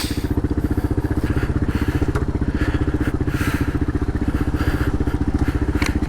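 A Kawasaki KLR650 single-cylinder engine thumps in a rapid, steady pulse while riding over bumpy ground, close and loud, with occasional clatters and knocks from the suspension and no talk.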